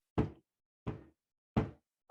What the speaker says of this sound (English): before I heard her knock on the door